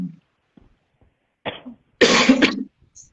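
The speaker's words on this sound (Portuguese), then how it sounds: "Você tossindo aí, eu tossindo aqui." A few short coughs and throat-clearing bursts, close and fairly loud, separated by brief silences.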